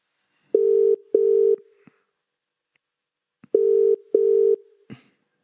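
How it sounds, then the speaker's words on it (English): Telephone tones sound while a call is placed: two pairs of steady, loud beeps separated by a pause, each pair followed by faint clicks, heard alone with no talking. "Let's get him on the phone"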